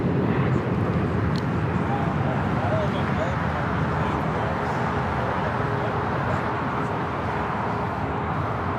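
A steady, dense roar from an Airbus A380 airliner arriving at LAX from Seoul fills the stretch, holding at an even level while a person talks over it.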